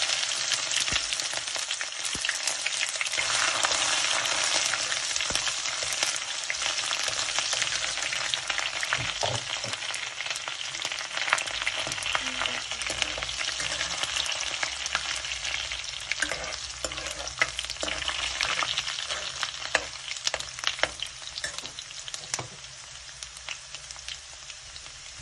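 Chopped ginger sizzling in hot oil in a pan for a cabbage dish, a loud, steady crackling fry close up with occasional stirring knocks, no voices.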